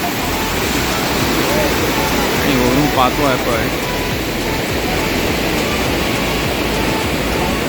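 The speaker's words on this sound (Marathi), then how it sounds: "खूप छान चारी बाजूनी धबधबे कोसळत आहेत" Steady roaring rush of waterfalls cascading in the Sahyadri hills at Ghatghar fills the whole clip, with a voice talking briefly over the constant broadband water noise.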